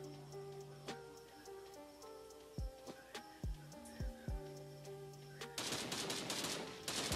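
Gunfire in the mobile shooter Sausage Man, with several sharp shots popping over steady in-game music, followed by a denser, louder burst of rapid fire near the end.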